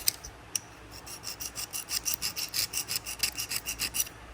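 Rhythmic, close-up rasping strokes as something is rubbed back and forth across a scored crankshaft journal from a Toyota 2.4L RAV4 engine, about a dozen even scratchy passes with no talking.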